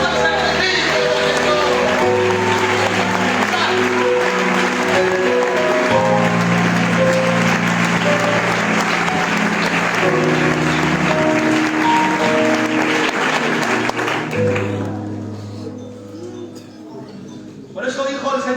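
A church congregation claps along in rhythm, steady applause blended with music and voices, fading out near the end.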